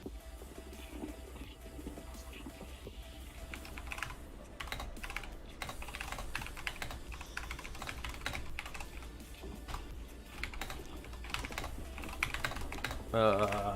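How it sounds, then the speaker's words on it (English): Rapid computer keyboard typing runs steadily throughout as a gaming session plays on, with background game sounds and a brief louder moment near the end. "I'm typing."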